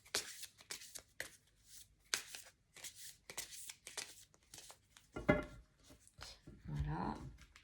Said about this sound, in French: Je vais mélanger un premier paquet, ou un premier tas, comme vous voulez.